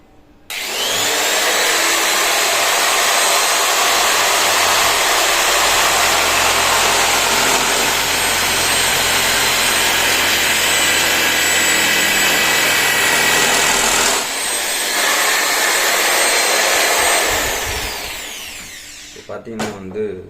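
An impact drill bores into ceramic tiles, a loud continuous whining grind held for about fourteen seconds, briefly dipping and resuming before spinning down to silence.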